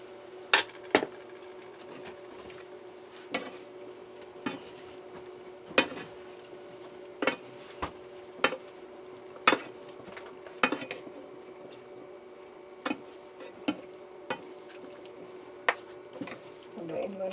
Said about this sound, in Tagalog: Haluin muna natin tapos saka natin takpan sandali.